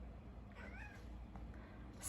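A pet cat gives a short, quiet meow with a rising then falling pitch, heard once in a hushed room with a faint background hum and no talking.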